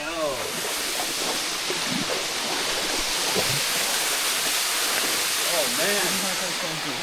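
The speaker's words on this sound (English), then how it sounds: "welcome to Sapphire Waterfall." Sapphire Waterfall in Trinidad roars with a dense, steady rush of falling water, loud and continuous throughout, while people talk faintly beneath it.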